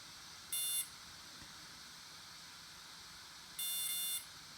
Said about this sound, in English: That's 2 beeps.